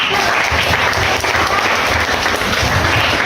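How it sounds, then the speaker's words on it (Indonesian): Applause fills a classroom, a steady dense clatter of clapping hands that stays loud and even throughout with no talk over it. "Oke, tepuk tangan"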